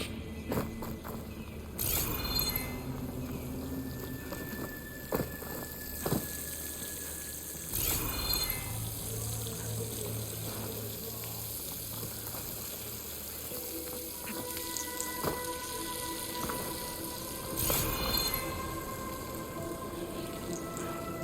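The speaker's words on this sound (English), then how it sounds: "The water's flowing into the wall towards a hollow" Water flows in the Horizon Forbidden West video game as a continuous gentle rush near a wall and waterfall, with a few brief louder splashes or steps.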